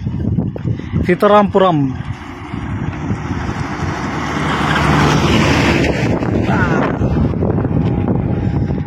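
A bus passing on a national highway, its rushing engine and wind roar swelling from about four seconds and holding loud and close, after someone speaks briefly over wind buffeting.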